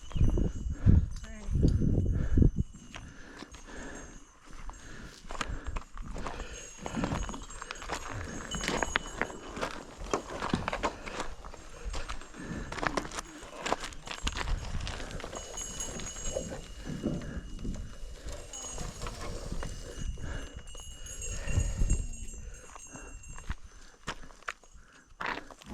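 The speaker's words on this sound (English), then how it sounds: "I think they were some kind of a draft horse, and they were absolutely gorgeous, and they were hauling lumber for this farmer" Draft horses hauling lumber on a farm on the Amalfi Coast walk along, their hooves clip-clopping in an uneven patter under outdoor ambience while people talk throughout.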